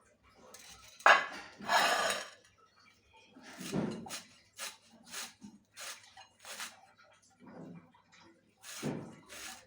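A knife thinly slicing khesari leafy greens on a board in a home kitchen, giving a string of short, sharp chops and taps in an uneven rhythm with brief pauses. The strokes sound close and moderately loud.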